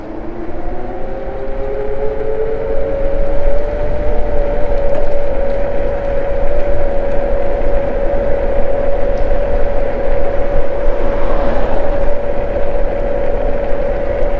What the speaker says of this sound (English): Let's hit this straight stretch wide open, full throttle, of course,